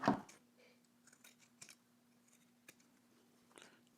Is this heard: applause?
no